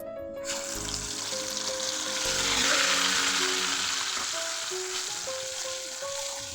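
Mustard paste and five-spice frying in hot oil for a homemade egg and puffed-rice pizza, a steady loud sizzle with stirring scrapes, and background music tones underneath throughout.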